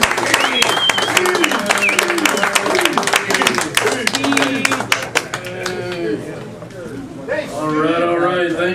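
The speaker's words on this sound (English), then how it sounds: "let's get a warm, rousing round of applause for Steve Kungis." Audience applause greets a speaker at a college evening talk, steady clapping and crowd noise filling the hall, with voices and cheering mixed in throughout.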